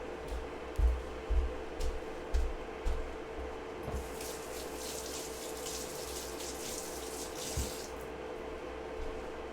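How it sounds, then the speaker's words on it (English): Tap water splashes steadily into a kitchen sink as a pan is rinsed while cooking potato curry. Soft, continuous running water is heard at low volume over a low hum, with a few light knocks of the pan near the start. "Give this thing a little rinse down."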